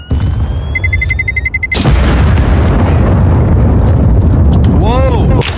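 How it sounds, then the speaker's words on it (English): In a laggy online video game, a grenade blows up with a loud booming blast, followed by rumbling noise and a player shouting over the game audio. "I'm throwing a grenade!"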